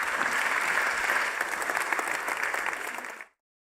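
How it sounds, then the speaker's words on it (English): Dense, steady applause from a summit audience for a panel, loud and continuous for about three seconds before cutting off abruptly. "give these guys a great big round of applause"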